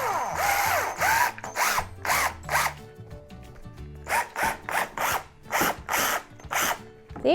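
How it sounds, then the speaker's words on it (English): A power drill with a 5/8-inch spade bit whirs in short bursts, starting and stopping repeatedly, its motor revving high with brief pauses between runs. "I have a power drill here with a 5/8 inch speed bore spade bit"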